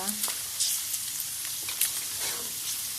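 Pork pieces coated in rice flour sizzle and crackle steadily in a pan over medium heat while being stirred, a continuous close frying hiss with occasional scraping clicks, no talking.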